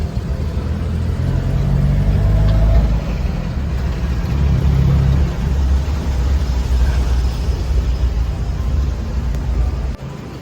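The engine of a local passenger vehicle in Pattaya drones loudly and steadily while riding, a low rumbling hum with slight shifts in pitch and no talk over it.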